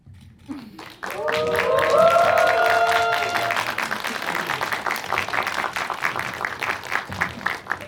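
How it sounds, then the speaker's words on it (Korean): Audience applause in a cinema at a film stage greeting for the movie 'Boss', rising after the actors bow: dense clapping swells and then carries on steadily with cheers and voices over it. "큰절한 거 치고 박수 소리가 너무 작네요."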